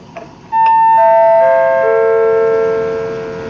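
A descending multi-tone chime rings out at Salaya railway station, a bright electronic melody of several sustained notes stepping downward and overlapping, loud and close, fading slowly over a few seconds with no talk.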